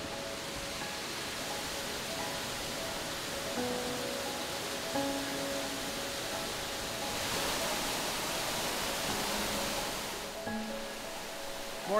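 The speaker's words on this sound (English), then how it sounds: "Not sure how well you'll be able to hear me right now with these falls in the background" Waterfalls near a forest camp in British Columbia give a steady, even rushing roar that fills the whole stretch without letup.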